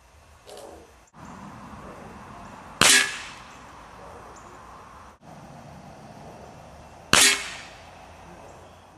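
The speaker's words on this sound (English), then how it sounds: "This next shot group was shot using Crosman Premier hollow point pellets." A Benjamin Discovery air rifle fires Crosman Premier hollow point pellets at 25 yards, two sharp, loud cracks several seconds apart over a quiet background, with faint clicks of handling between them.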